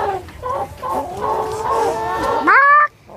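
Chickens on a farm cluck and call close by, several overlapping warbling cackles building in a continuous run, ending in a loud, rising squawk before falling quiet.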